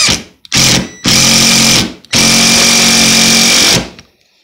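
A new, cheap Chinese-made impact gun runs free in four loud, close bursts of high whirring motor noise. The bursts are separated by short pauses, the longest run lasting nearly two seconds before it winds down.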